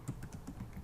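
Quick soft typing on a computer keyboard, a short run of faint, evenly spaced keystrokes close by.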